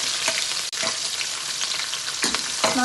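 Green chili, garlic and ginger frying in oil for a bitter gourd pickle, a loud close crackling sizzle with a few sharp stirring scrapes, no voices.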